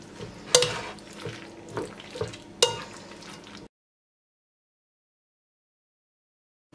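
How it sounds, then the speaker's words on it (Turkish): Purslane is stirred into a salad in a bowl, giving soft close rustling and a few sharp clinks of a utensil against the dish, then the sound cuts to silence. "İçine katıyorum ve karıştırıyorum."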